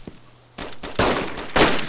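Gunfire in the game DayZ: a couple of sharp, loud bursts of shots close together, each with a short crackling tail, after a quiet start.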